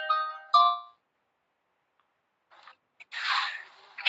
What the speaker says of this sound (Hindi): फोन आ गया जरा